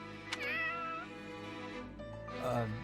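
A cat in video game Fire Emblem Warriors: Three Hopes meows twice, a wavering mid-pitched mew followed after a pause by a lower drawn-out one, close and clear over soft background music.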